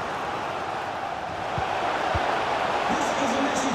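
Stadium crowd noise from a FIFA 23 football match simulation, a steady dense roar that swells louder midway through a set piece, with faint commentary-like tones underneath.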